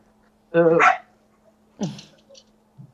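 A small pet dog barks close by indoors, one sharp bark, then a shorter yip and a faint whine, over a steady low electrical hum.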